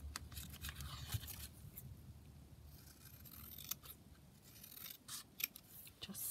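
Scissors cutting down a paper bag from IKEA, with quiet repeated snips and crisp paper rustling and scraping close by, soft and irregular, without speech.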